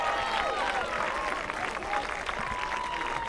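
Applause from the stands for substitutes leaving a women's college soccer match, Radford against Duke in a first-round game, a steady broad crowd wash with a commentator talking over it throughout.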